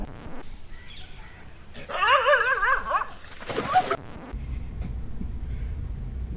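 A dog gives a quick run of high, wavering yips and barks in the middle, moderately loud over a low background rumble.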